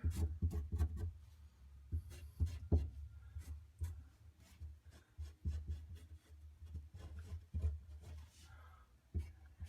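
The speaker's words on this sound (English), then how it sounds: "we'll mark this with our pen" Felt-tip pen scratching and rubbing across the rusty sheet-metal body of a 1969 Porsche 912, marking a cut line in short repeated strokes, close and fairly quiet.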